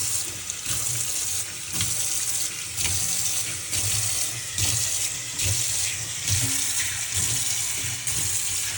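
Water runs steadily from a kitchen tap into a sink while a brush is rinsed under it, a continuous close splashing hiss with slight shifts as the flow hits the brush, no talking.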